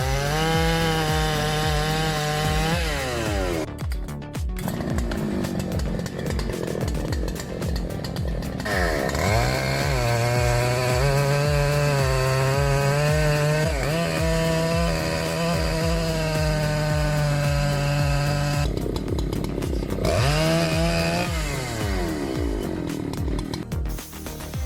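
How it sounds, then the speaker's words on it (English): Powerful chainsaws roar steadily while cutting through wood, engines revving up and down in loud, continuous bursts with rising and falling pitch, close and alone without talk. "This is a testament to the strength and superior efficiency of these chainsaws"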